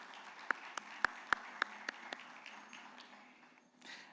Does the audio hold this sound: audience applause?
yes